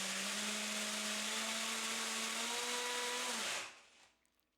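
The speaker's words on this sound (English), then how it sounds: "I can see that the drill chokes" A cordless drill in second gear, driving a 3D-printed gearbox, whines loudly at a steady high pitch, bogging down slightly in tone as it strains, then cuts off abruptly and winds down to near silence.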